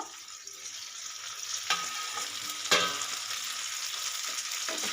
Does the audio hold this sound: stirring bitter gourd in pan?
yes